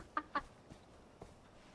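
Two short clucks from a chicken in Far Cry 4, quick and close together near the start, then a couple of fainter soft calls with quiet game ambience between them.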